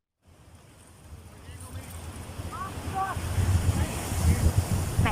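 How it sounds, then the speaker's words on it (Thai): Ocean waves washing against a Thai beach shore, building from a soft wash to a louder rolling surf with steady wind noise and a few faint bird calls. "เสียงคลื่นกระทบฝั่งแบบนี้นะคะ"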